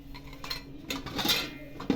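Metal clinks and soft scrapes as an oiled mesh disc is set into a sev press, a few light taps and a sharper clink near the end, close and fairly quiet.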